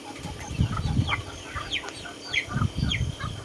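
Several chickens cluck in short, low bursts close by, with chirpy bird calls scattered above them in an outdoor yard on a marang farm in the Philippines.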